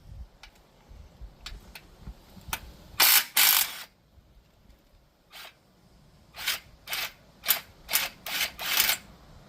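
A ratchet wrench loosens bolts on a boat, making scattered clicks, then two loud rasping ratchet bursts, followed by a rhythmic series of six or seven sharp ratcheting strokes, close and with no talking.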